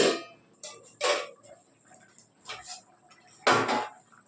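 A lid placed on a pot of simmering fish curry, a few separate clanks and clinks of metal, close and moderately loud, the last contact the strongest.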